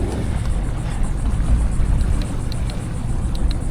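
Outboard engine on an East Cape EVO skiff running in shallow water, a loud steady rumble mixed with wind buffeting the microphone and water noise, with no speech.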